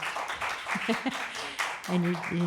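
Audience clapping at a small masked-up live music gathering, about sixty people, a steady patter of hands under a speaking voice that continues throughout.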